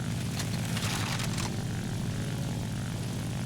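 The piston engine of an N1K2-J fighter plane in flight in War Thunder, a loud continuous propeller drone with steady low throbbing and some rushing wind, uninterrupted and without speech.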